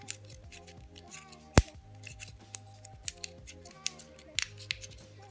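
Scissors snip through aluminium Nespresso coffee capsules for handmade jewellery, a run of sharp, close clicks and cuts at an irregular pace, with one loud snap near the start and faint background music underneath.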